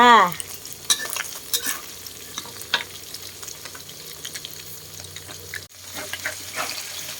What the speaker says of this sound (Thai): ทอดปลา บ่หอมบ่